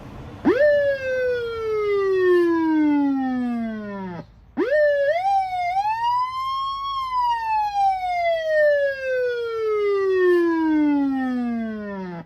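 A Federal Interceptor PA-20A electronic siren plays loudly through a speaker under test, with a long falling wail that cuts off briefly, then restarts and climbs into a slow rising and falling wail.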